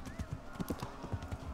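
Hooves clop rapidly as a horse gallops in the video game Kingdom Come Deliverance, a fast, close rhythmic drumming over a low ambient background.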